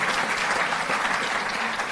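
Sustained audience applause at an award ceremony honouring Olympic athletes, a dense steady clatter of clapping hands filling the hall without pause.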